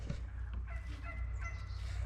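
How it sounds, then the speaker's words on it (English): A turkey gobbles in an orchard during feeding time, its call fairly faint over a steady low rumbling hum throughout. "What are you doing out here, turkey?"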